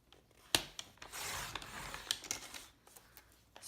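A paper cutter trims cardstock with a soft scraping slide of the blade, opened by a sharp click and followed by a few light taps and rustles, close and quiet.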